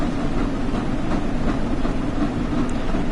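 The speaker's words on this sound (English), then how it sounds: "This locomotive was built for speed, so let's make use of that speed." Flying Scotsman steam locomotive running at speed in Train Sim World 4, a steady heavy rumble with a faint rhythmic chuff and rolling wheel noise, continuous and without talk.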